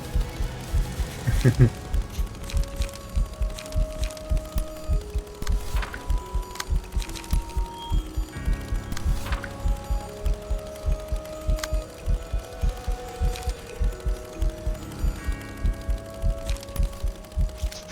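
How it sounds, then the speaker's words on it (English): Low-health heartbeat from the video game Library of Ruina: steady, evenly spaced deep thumps pulse throughout, layered under sustained musical tones. "just heartbeats, like heartbeat noises"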